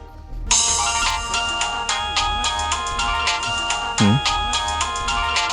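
A mobile phone rings loudly and close by with a continuous bright electronic melody that repeats its notes rhythmically. A brief swooping tone breaks in partway through.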